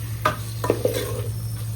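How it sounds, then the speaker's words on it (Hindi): Tomatoes fry for kheema aloo matar in a pressure cooker in a home kitchen in Hyderabad. A few quick scraping stirs of a spoon against the pot sound over a low, constant hum and faint sizzle. "हो गए टमाटर जरा भुने गए थे"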